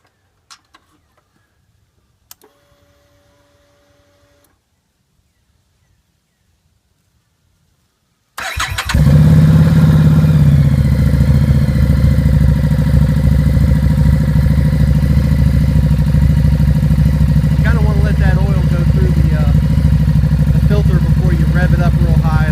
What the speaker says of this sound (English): Rev it up real high and all that good stuff.